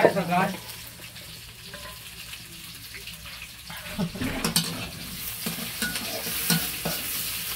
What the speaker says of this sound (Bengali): আমি এখানে চিড়ে রাখা মরিচগুলো দিয়ে নিলাম একটু ভাজবো।